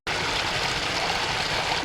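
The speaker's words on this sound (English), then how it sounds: "You don't see waterfalls too often in Central Florida like this." A natural spring waterfall in Central Florida pours steadily, a loud, close, unbroken rush of flowing water starting abruptly and holding level, with no voices.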